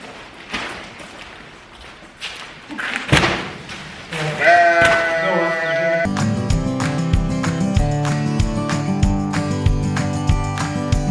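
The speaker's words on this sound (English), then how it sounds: "And these sheep are hungry." Hungry farm sheep bleat several times near a trailer, with thumps and clatter, before loud tonal music takes over the second half.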